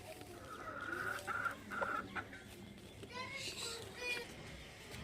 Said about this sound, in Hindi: ये देख सकते हैं, माशाल्लाह बहुत ही अच्छा मुर्गा है।